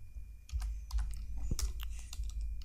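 Quiet, irregular keystrokes of code being typed on a computer keyboard, a quick scattered series of clicks with a few louder taps, heard alone.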